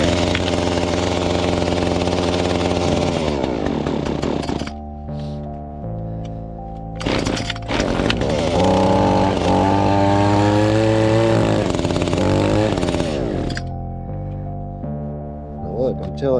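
An Echo chainsaw engine, cold after four days outdoors in 30-degree weather, starts and revs loudly in repeated bursts between rough idling, with a voice talking over parts of it.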